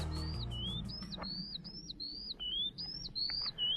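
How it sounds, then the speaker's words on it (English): A bird on Skirrid Fawr near Abergavenny calls repeatedly with clear, rising and falling whistled chirps in quick succession, fairly close, over a low background hum. "there's the bird making the bird noise."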